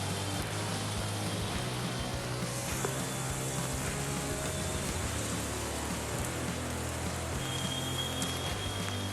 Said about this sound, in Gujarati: ધીરો ધીરો ચાલુ છે વરસાદ